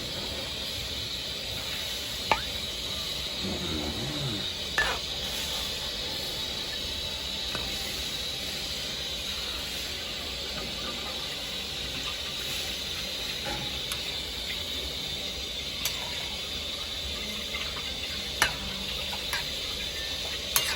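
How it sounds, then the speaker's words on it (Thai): Steady hiss of boiling water with soft bubbling, broken by a few brief splashes and clinks as squid drops in. "น้ำเดือดๆแล้วก็เอาหมึกลงเลยครับ"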